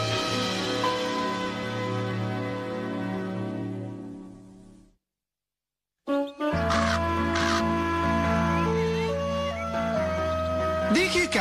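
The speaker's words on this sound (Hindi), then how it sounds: "पहली मैगपाई" A magpie calls in an animated cartoon scene, harsh caw-like chattering set against a steady musical backing that drops out briefly mid-clip before resuming.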